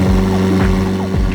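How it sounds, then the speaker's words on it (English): A McLaren 750S supercar with a central exhaust runs loudly close by, a steady low engine drone with a few quick rising and falling rev sweeps, no talk over it. "Much like the 765, you also have a central exhaust, and it sounds incredible."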